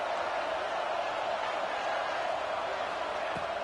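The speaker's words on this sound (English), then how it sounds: "This crowd is trying to inspire this defense to make a big red zone stop." Steady broadband stadium crowd roar from the College Football 26 video game, a continuous loud wash of cheering fans urging a defense toward a red zone stop, with no breaks across the stretch.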